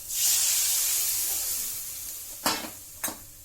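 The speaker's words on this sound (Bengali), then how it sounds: "এবারে আমি পরিমাণ মতো জল দিয়ে দেবো," Water poured into a hot pan of fried spices and potatoes bursts into a loud, close hiss that gradually fades. Two short clatters of a utensil follow near the end.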